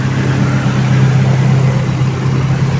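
A 1997 Toyota Corolla XL engine runs steadily nearby, a loud, even low hum with a constant drone and no voices.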